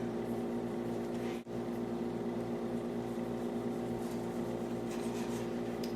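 An electric meat slicer runs steadily while slicing thin deli-style roast beef at home, a constant motor hum with a brief dropout partway through and no talk.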